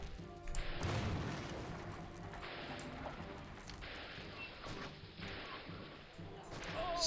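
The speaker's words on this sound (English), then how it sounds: "Everything is exploding." Muffled booms from buildings exploding during a local uprising in the city-building game Caesar 3, several soft blasts spread across a low rumbling game soundscape.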